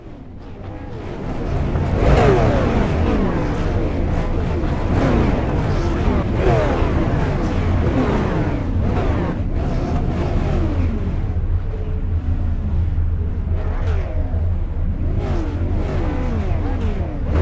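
Several race car engines fire up and rev loudly at Iowa Speedway in the iRacing sim, a dense, close roar with repeated rising and falling revs, a sharp burst near the start and steady engine drone underneath.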